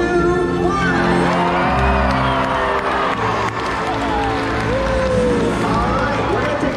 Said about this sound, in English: I want you all to give him a great big cheer